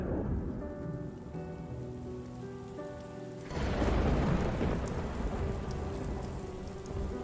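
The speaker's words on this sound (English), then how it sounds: "Now it's raining on just us." Rain pours steadily, first under a soft musical tone, then swelling into a heavier, louder downpour that hisses densely on surfaces.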